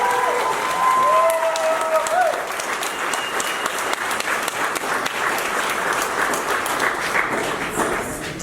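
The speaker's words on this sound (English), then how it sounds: "Give her another nice big round of applause." An audience applauds at a groundbreaking event, sustained dense clapping that carries on through the whole stretch, with a voice briefly speaking over the start before the clapping continues alone.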